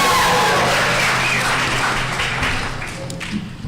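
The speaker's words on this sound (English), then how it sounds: "So if you could give a warm round of applause for Erica Brandon, Mike Gentry, and Dave Zeller." Warm audience applause at a district court candidates forum, a steady broadband wash of clapping that holds fairly loud throughout and eases slightly toward the end.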